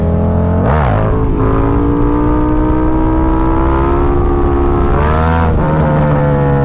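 A KTM Super Duke motorcycle's engine roars loud and close in second gear during a wheelie, holding a high, strained drone, with a sharp rev swell near the start and another surge toward the end.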